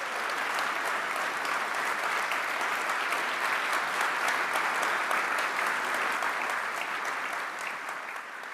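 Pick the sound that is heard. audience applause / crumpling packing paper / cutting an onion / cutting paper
audience applause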